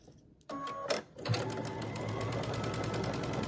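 A sewing machine joins quilt squares right sides together with a quarter-inch seam, running steadily and close by after a few short clicks and bumps at the start.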